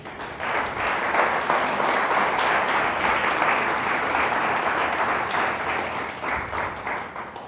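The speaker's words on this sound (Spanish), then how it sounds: "Dele un fuerte aplauso a Dios." A church congregation claps loudly for God after a sermon, a dense, steady wash of many hands filling the room for several seconds, with a few faint voices mixed in.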